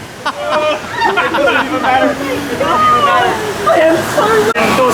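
Water rushes and splashes over riders on a raft ride at Walt Disney World's Animal Kingdom, a steady close wash of noise under excited shouting and chatter throughout.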